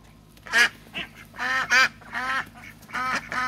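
Ducklings eating pasta give loud, close, repeated quacks in quick irregular bursts, some overlapping, with little else behind them.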